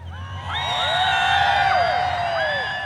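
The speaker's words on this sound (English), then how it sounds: "they let me know that the crowd is ready" Spectators at a 1991 tractor pulling championship, the Twin Creek Grand Nationals, cheer and whoop, with high shrill whistles and shouts rising over a steady crowd roar.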